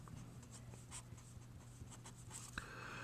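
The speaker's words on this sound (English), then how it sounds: "and then write it again" A pen writes out a math equation on paper, a quiet close scratching made of short strokes and taps over a faint steady hum.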